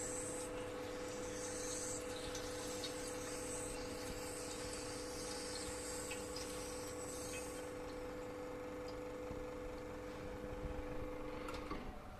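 A LELIT Bianca PL162T espresso machine runs with a steady pump hum and a flowing hiss of water, sustained and fairly close, with a brief click near the end.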